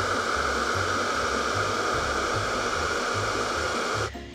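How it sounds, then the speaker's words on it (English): A hair dryer set to cool blows a loud, steady roar of air into the valve of a small vinyl inflatable pool, the whoosh holding constant before a brief shift at the end. "Then you're gonna use your hand to direct the airflow by cupping it between the port and the hairdryer."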